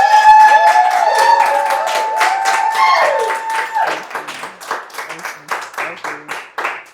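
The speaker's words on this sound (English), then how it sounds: "Y'all clap it up." An audience applauding at an education event, a dense burst of clapping that thins into scattered claps while music plays over it.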